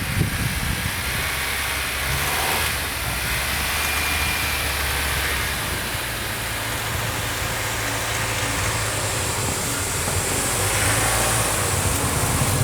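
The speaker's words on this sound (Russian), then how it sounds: "Как же после переднего приводного автомобиля удивительно ехать по таким сугробам" A Renault Duster pushes through deep winter snowdrifts, its engine droning steadily under a broad hiss and rumble of snow and tyres, with the sound rising and easing slightly as it drives.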